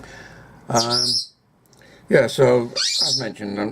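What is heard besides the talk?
parrots squawking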